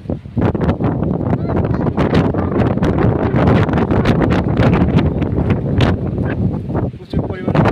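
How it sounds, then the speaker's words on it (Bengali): Strong wind buffeting the microphone on a hilltop near a temple, a loud, continuous roaring rush with gusty bursts throughout, with people talking underneath. "তো দেখো এখানটা প্রচুর হাওয়া দিচ্ছে"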